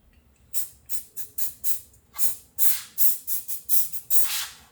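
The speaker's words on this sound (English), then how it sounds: "I'm gonna do the 3M adhesive remover. I'm gonna spray just around the area" A series of short bursts from an aerosol can of 3M adhesive remover, about a dozen quick hissing puffs in an uneven rhythm, close and fairly loud with no talking.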